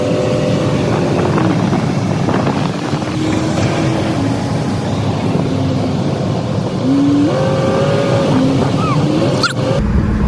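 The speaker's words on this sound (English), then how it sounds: "Mopar big block." The Mopar big block V8 in a 1969 Dodge Polara runs steadily, a loud continuous rumble close to the microphone with wind buffeting and faint whining tones drifting through.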